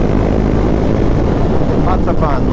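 A Husqvarna Svartpilen motorcycle engine holds a steady drone at about 6,000 RPM in fourth gear on a hot, sunny ride, loud and continuous with wind rush throughout.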